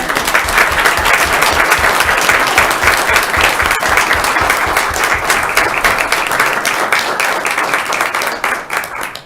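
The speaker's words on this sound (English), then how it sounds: "All right, one more round of applause." Sustained applause from a crowd at a Marquette city commission meeting, loud and dense with steady clapping throughout before it thins near the end.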